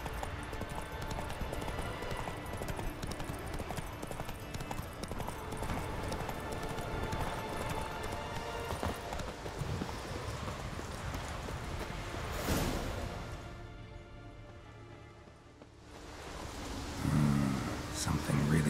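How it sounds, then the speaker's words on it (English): Galloping hoofbeats of a horse in The Witcher 3, a steady drumming clip-clop under continuous game ambience and music, fairly loud throughout with a brief dip near the end. "Run, Roach."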